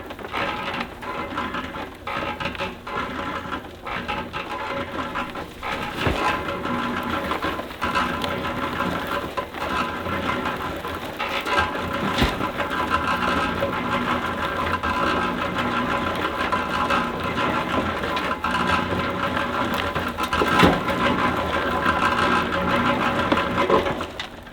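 A homemade compost trommel sifter turns steadily, with a busy mechanical whir, rattling and clatter of the rotating drum going on nonstop at close range with no talking.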